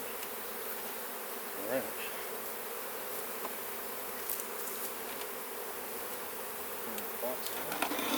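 Honey bees around an opened hive during a honey harvest, a faint continuous outdoor buzz with a few closer insects passing by, and a brief word spoken once.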